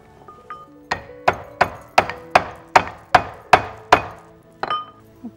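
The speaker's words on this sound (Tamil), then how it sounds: "திப்பிலி, அதிமதுரம், இதெல்லாம் நம்ம கொஞ்சம் இடிச்சிக்க போகிறோம்." Long pepper and licorice root pounded in a mortar, about nine sharp, evenly spaced thuds with ringing tails, preceded by a couple of light taps, close and clear with no talk.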